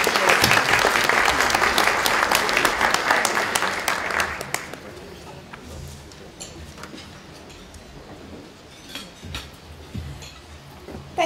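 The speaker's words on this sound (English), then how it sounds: "Please give her a round of applause." An audience claps to welcome Health and Aged Care Minister Sussan Ley. Dense, loud applause fills the first four seconds, then thins out to scattered claps and a few faint voices.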